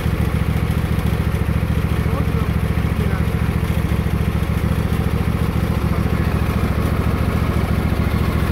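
The small engine of a Husqvarna GTH 52XLS garden tractor runs steadily up close, a loud, even chugging rumble with rattling clatter that never lets up.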